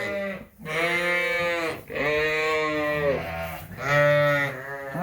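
Sheep bleat repeatedly in a farm pen with lambs, a series of loud, close, wavering calls separated by brief pauses, with no talking.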